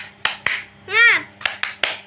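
In a classroom teaching session, children do a rhythmic clapping chant: two sharp claps, a single shouted word from young voices, then three more crisp claps in quick succession, all close and clear.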